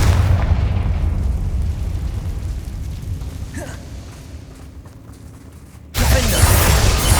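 A blasting spell explosion in Hogwarts Legacy: a heavy boom that decays into a long rumbling tail over several seconds, followed by a sudden loud second burst near the end.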